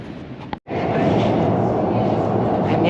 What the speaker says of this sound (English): you can still hear the Victoria Line noise underground